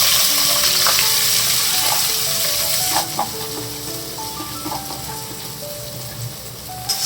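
Onions fry in a pan with star anise and pepper for homemade fried rice. A loud, continuous sizzle runs throughout and eases slightly partway, with occasional stirring clatter and no talking.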